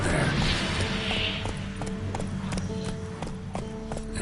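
Rapid rhythmic hoofbeats of the horse Roach galloping in The Witcher 3, a steady clip-clop pattern close and loud over wind-like rushing noise.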